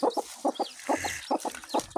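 Newly hatched Brahma cross chicks peep loudly and repeatedly in short high chirps, a rapid irregular chorus of several birds close by with no talking.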